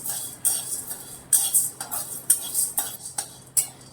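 Chana dal is dry-roasted and stirred in a pan, with a spatula clinking and scraping against the metal in irregular, close, sharp taps and scrapes and no talk.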